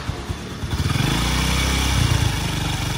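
A 2017 Honda Wave motorcycle engine starts and settles into a steady, close, loud putter that rises slightly as it runs, with no talking.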